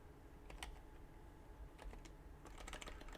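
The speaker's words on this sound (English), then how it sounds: "Oh, I keep typing on that keyboard." A computer keyboard is typed on faintly, with irregular bursts of soft keystroke clicks spread over a few seconds and no talking.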